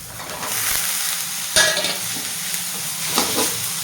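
Vegetables with tomato and green peas fry in a pan, giving a steady close sizzle broken by sharp scrapes and clinks of stirring near the middle and end.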